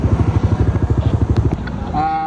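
A motorcycle with a loud, noise-violating muffler at a roadside traffic stop in Marikina throbs with a fast, steady engine pulse close by, then shifts to a brief higher whine near the end.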